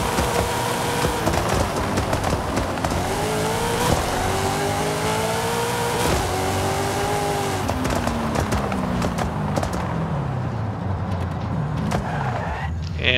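A Toyota GR86 drag car drives in Forza Horizon 5, its engine revving and shifting through rising and falling pitch sweeps, loud and close, with clattering game effects over a steady drone.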